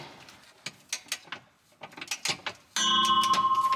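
A ratchet wrench tightens a rear suspension swing-arm bolt on a BMW E39 540i, clicking in short bursts close by before a steady whirring hum sets in.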